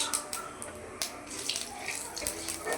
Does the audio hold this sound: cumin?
yes